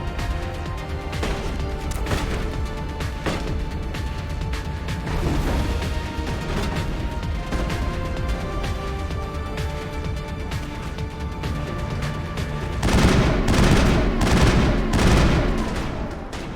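Gunfire in the Mass Effect video game, dense rapid bursts of shots and explosive cracks firing continuously, swelling louder near the end, close and intense with no talk over it.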